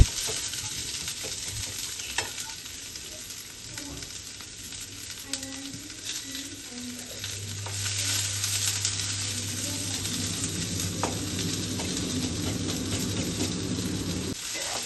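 Onions frying in a pan until browned for chicken sambar, a continuous close sizzle with occasional scraping and metallic clinks of stirring, a voice talking over it at times.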